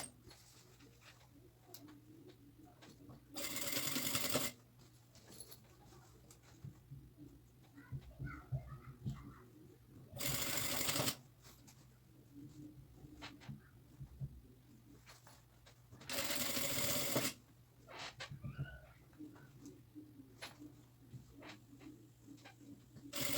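A sewing machine runs in three short, loud bursts a few seconds apart, stitching bias binding onto the seams of a fabric backpack, with quiet handling noises between the runs.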